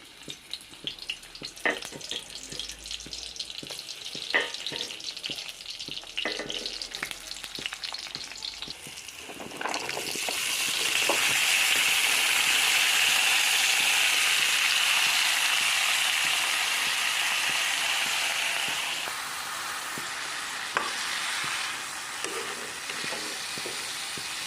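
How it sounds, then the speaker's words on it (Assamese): Onions dropped into hot oil, a loud broad sizzle bursting up partway through and holding steady before easing slightly, after quieter kitchen clatter and stirring. "আৰু ইফালে তেলখিনি গৰম হৈ গ'ল আৰু ইয়াতে পিঁয়াজখিনি দি দিওঁ।"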